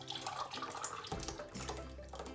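Pasta sauce poured from a pan into a bowl in a home kitchen: a steady wet, thick liquid pour with glugging and splattering, close and continuous, no talking.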